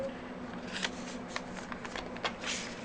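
Junk mail pages being trimmed with a small paper cutter, a quiet series of sharp slicing and rustling clicks at irregular intervals, close up, with faint background murmur.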